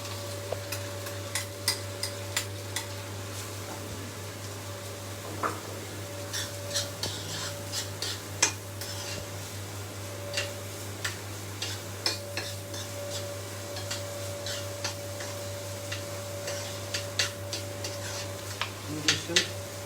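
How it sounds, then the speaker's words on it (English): Chopped onion fries in a pan on a stove, with a steady sizzle under a constant low hum and repeated scraping ticks from stirring at irregular intervals, close and fairly clear, with no talking. "हम इसमें chopped onion डाल दिया हमने."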